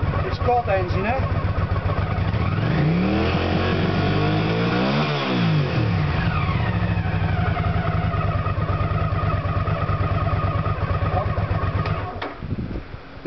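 Engine on an SDI ignition unit test revs up sharply from a steady idle, peaks and drops back, staying loud and close before cutting out near the end, with someone speaking over the running motor.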